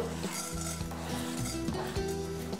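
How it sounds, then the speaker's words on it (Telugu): Urad dal frying in hot tempering oil for bisibelabath, a dense close sizzle over clinks and scrapes of a spoon against the pan, with a tonal ringing from the metal and no voice. "ముందుగా మనం 1 స్పూను మినపప్పు వేయించుకుందాం"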